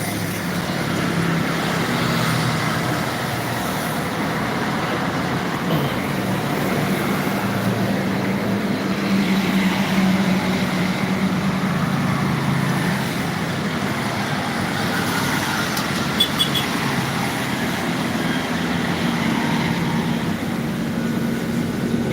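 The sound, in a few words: busy road traffic with private cars and trucks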